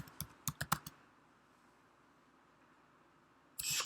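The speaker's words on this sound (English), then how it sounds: "You can type an address in here." A computer keyboard is typed on in a quick burst of five or six distinct clicks, then goes quiet before a brief louder rustle at the end.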